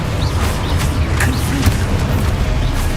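Spell explosions from the video game Hogwarts Legacy, a continuous dense rumble of booming blasts and bursts, loud and sustained with several sharper pops layered over heavy low-end energy.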